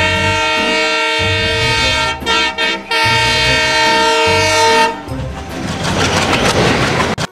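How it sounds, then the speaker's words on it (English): A passing train sounds its horn in long loud blasts with brief breaks, then the rumble and rattle of the rail cars takes over, close and steady. "T for train."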